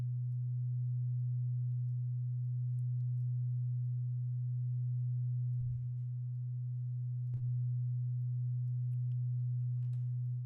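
A low, steady synth tone with reverb added holds for about ten seconds, a dark, filtered lo-fi pad that stays smooth and unbroken throughout.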